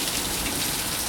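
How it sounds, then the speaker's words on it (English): Heavy rain pours down hard during a thunderstorm in Springfield, Illinois, a dense, loud, unbroken hiss of drops hitting surfaces with no talk. "it's raining too hard for their gutters"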